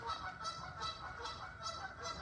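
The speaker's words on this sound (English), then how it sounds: "you might be able to hear the geese in the background" Geese honking repeatedly in the background, a steady series of nasal calls at moderate distance over low ambient noise.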